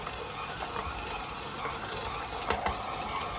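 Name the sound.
stand mixer kneading enriched brioche dough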